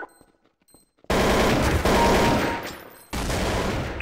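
Rapid automatic gunfire in Counter-Strike: Source, loud close bursts starting abruptly after a near-silent second, a brief pause, then another sustained volley.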